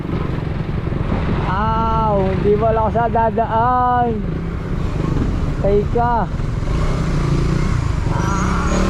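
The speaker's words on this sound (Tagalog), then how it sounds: "grabe, sobrang traffic." Congested road traffic with motorcycles and cars rumbles steadily, with horn-like tonal blasts rising and falling and engines droning close by, while someone talks over it.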